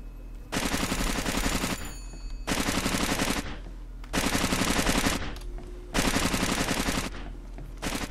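Bursts of automatic gunfire from a tactical shooter game, Rainbow Six 3: Raven Shield, coming in four long loud volleys with short pauses between them and no talking.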